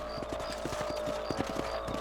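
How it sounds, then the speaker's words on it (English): Rhythmic clip-clop of horse hooves trotting at a steady pace over a low constant hum in the video game Red Dead Redemption, with a soft whinny-like tone now and then. "Let's get back on the horses and see what else is going on."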